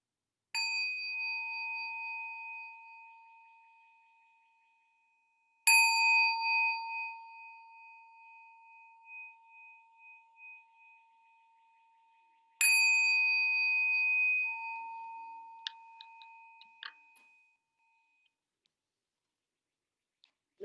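A meditation bell rings three times, each strike a clear sustained ding that slowly fades before the next, set apart by long pauses; a few faint small clicks follow the last ring.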